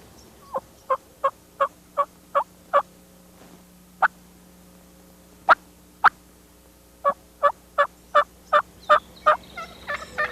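Turkey tree call made by a person on a mouth call, imitating a hen: a run of sharp, evenly spaced yelps and clucks in two groups with a short pause between, close and clear against quiet background.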